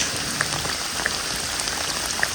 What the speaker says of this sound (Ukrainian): Навіть не очікував, що буде такий сильний дощ.